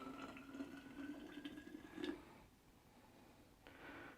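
Water pours steadily into an insulated stainless vacuum flask, a continuous trickling fill with brief louder splashes, then pauses before the pour resumes.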